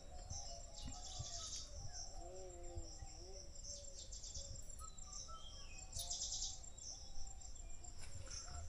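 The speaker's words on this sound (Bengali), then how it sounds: "প্রচুর পাখির ডাক।" In the early morning forest at Aranya Sundari Bhalki Machan, several birds chirp and call intermittently over a constant chorus of crickets in a quiet outdoor setting, with a brief burst of trilling midway.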